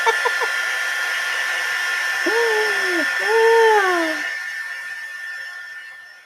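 A hair dryer runs with a steady, high whine while drying a craft project, its tone shifting as it is moved, and a voice speaks briefly over the noise.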